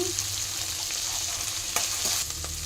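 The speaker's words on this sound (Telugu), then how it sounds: "ఆనియన్ వేసుకున్నాం కదా ఇప్పుడు తెలగడ్డలు వేసుకుంటా ఉండము కొంచెం వేగినాక" Onion and garlic frying in a pan for stuffed brinjal curry, a steady close sizzle with occasional stirring clinks, no talking.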